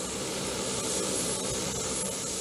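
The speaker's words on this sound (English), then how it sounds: "Once both right wing engines are up and running, the engines on the left wing receive pneumatics for the startup" C-130 turboprop engines run in a steady, broadband roar heard from a moderate distance, with no voices.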